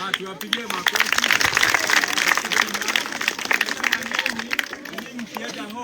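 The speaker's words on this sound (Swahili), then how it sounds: "tuwapigie makofi." An audience claps at the opening of a new school project in Githunguri, Kiambu, producing steady, dense applause for about six seconds with crowd murmur mixed in.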